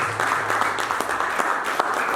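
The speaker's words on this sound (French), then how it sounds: "Acclame-nous, acclame-nous." A church audience applauds during a French-language sermon with steady, dense clapping throughout, close and fairly loud.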